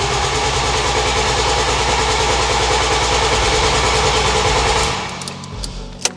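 A family car engine cranks steadily with a rhythmic, heavy chugging that runs without firing, then stops abruptly near the end, leaving quiet with a brief clunk.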